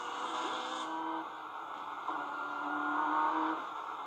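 Onboard a Nissan Skyline racing at the 1995 Le Mans 24 Hours, the engine drones steadily, its pitch dropping at a gear change, then climbing again under acceleration before easing off.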